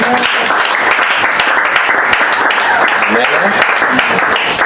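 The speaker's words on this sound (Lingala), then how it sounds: "Est-ce qu'on va acclamer Jésus?" A church congregation at a Sunday service applauds loudly, with dense, sustained clapping and some cheering from a large crowd throughout.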